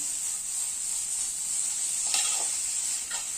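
Tandulka leaf bhaji being stirred in a hot pan: a constant close sizzle with a few soft scraping strokes of the spoon near the end, no talking.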